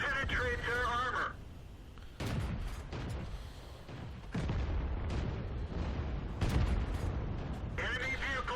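Tank destruction in the World of Tanks video game, an M3 Lee knocked out on the Swamp map by a Type 3 Chi Nu: a loud booming shot and crunching impact under game radio voice and commentary, then more blasts.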